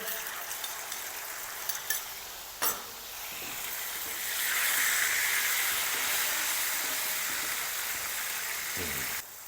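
Tomato paste cooks into dal in a pot with a steady sizzle and hiss that swells in the middle, punctuated by a few sharp clinks of a utensil against the pot.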